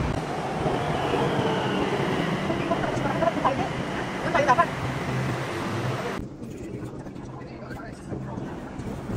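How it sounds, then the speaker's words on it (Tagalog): A metro train pulls into a station in Bangkok with a continuous rumbling roll and faint squeals, under a murmur of voices, then the sound drops and quiets near the end. "naghihintay kami na parating na train at sasakay na po kami"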